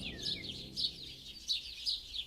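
Forest birds calling in the morning, a series of repeated high chirps and tweets coming in short regular bursts over a quiet background.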